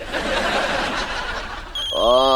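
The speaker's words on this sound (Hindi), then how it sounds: "मैंने नंबर भी घुमा दिया, देखो घंटी भी बज रही।" A telephone bell rings briefly near the end, following a stretch of close talking and soft laughter.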